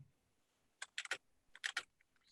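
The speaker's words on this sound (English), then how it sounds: "my keyboard might be loud" Computer keyboard typing, quiet and close: a few short clusters of key clicks in quick rapid bursts against a near-silent background.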